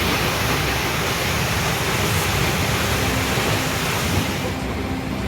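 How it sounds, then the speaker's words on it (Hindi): Heavy rushing floodwater from swollen rivers in Idukki after dams released water following heavy rain, a steady dense roar that fills the whole clip, loud and continuous with no pauses. "पानी का बहाव इतना तेज था कि एक सफेद रंग की गाड़ी इसमें बह गई।"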